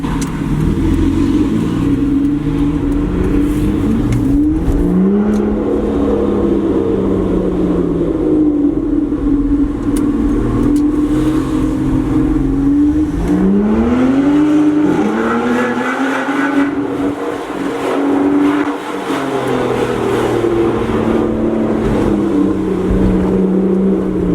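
A loud Aston Martin Vanquish S Ultimate engine roars steadily up close, its pitch rising and falling as it revs through gears, with no one speaking.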